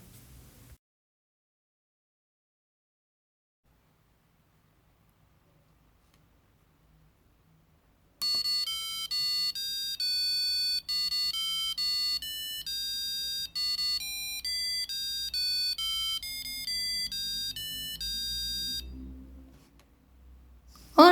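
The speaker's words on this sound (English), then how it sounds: "the microcontroller makes the buzzer play the happy birthday tune" A piezo buzzer driven by a microcontroller plays the happy birthday tune in clear, shrill electronic beeps. The melody starts after several seconds of near silence and then runs as a steady sequence of notes until it stops near the end.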